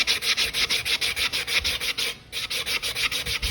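A sanding block rubs rhythmically back and forth on a coated metal tumbler, about five strokes per second, pausing once briefly before continuing.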